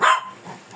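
A feisty dog barks once sharply while being groomed, the bark close and loud, followed by a short low whimper or growl.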